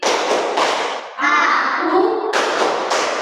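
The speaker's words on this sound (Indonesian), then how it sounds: "Tepuk konsentrasi" A class of pupils claps together in quick rhythmic bursts, with a short stretch of group chanting or voices in the middle before the clapping resumes.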